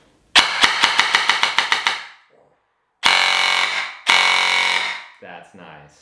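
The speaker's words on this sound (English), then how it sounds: "Let's see what the brushless motor can do." A Warhead Industries brushless motor fitted in an airsoft gun drives a rapid string of about nine sharp mechanical cracks, then two long sustained full-auto bursts of whirring clatter, loud and close, with brief pauses between them.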